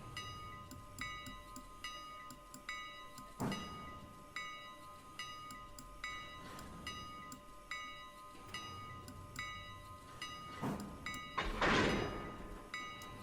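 Freight cars couple in the train game Railroader: repeated metallic clanks and two louder bangs of cars meeting, with a rushing burst near the end over a low rumbling rail bed.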